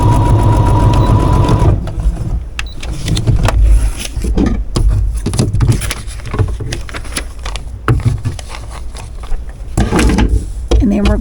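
A sewing machine stitches a seam along a line while foundation paper piecing a quilt, running steadily for a couple of seconds before stopping; a voice then talks over quieter handling sounds.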